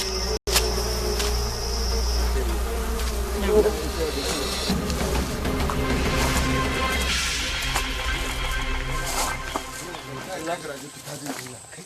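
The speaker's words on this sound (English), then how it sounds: "of African bees has been disturbed by the hunting party, and now they're starting to swarm, aggressively defending their territory." Swarm of aggressive African bees disturbed by a hunting party: a loud, dense, continuous buzzing drone close by, with a voice talking over it.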